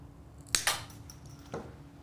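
Scissors snip through Dollar Tree peel and stick tile, with two or three crisp close cuts spaced about a second apart over a quiet room.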